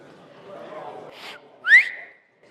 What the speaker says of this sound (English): Just whistling at people is fantastic.